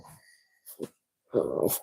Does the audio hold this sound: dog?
yes